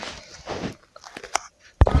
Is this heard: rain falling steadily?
no